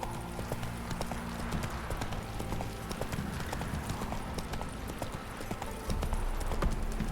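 Hooves clip-clop steadily as the horse Roach gallops in The Witcher 3, a continuous rhythmic pounding over a constant low rumble of game ambience.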